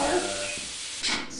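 Steam hisses in a dim underground area in the VR game Lethal Company, a steady broadband hiss with a brief louder gust near the end, under light chatter from players.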